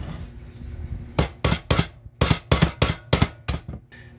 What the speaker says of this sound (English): Pop that rivet right through.